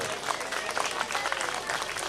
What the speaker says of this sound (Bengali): একটু হাততালি তন্ময়ের জন্য।